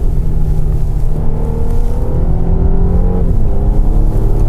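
A 2019 Mercedes E450 wagon with a 9-speed automatic pulls hard out of a corner, its engine note loud, steady and close, climbing in pitch as it accelerates, with no talk.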